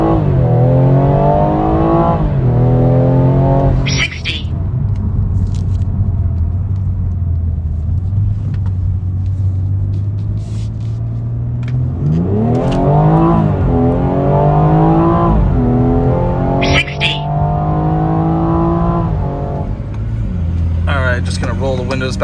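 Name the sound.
tuned BMW M240i engine revving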